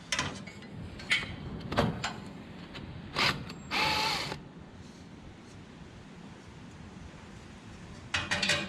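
Metallic clanks and ratcheting clicks come in bursts as a stuck bolt is worked loose on a Claas Rollant 85 baler, close by, with quieter pauses between efforts and no talk.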